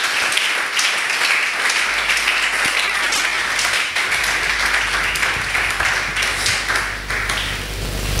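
A church congregation claps and cheers steadily for a confession of faith, dense sustained applause filling the room throughout with no speech.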